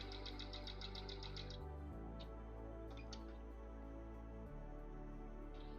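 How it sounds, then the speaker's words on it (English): Sewing machine stitching along double-fold bias tape and running straight over pins, a steady close mechanical whir with rapid needle ticking throughout, briefly pausing and restarting. "I'm gonna sew right over my pins."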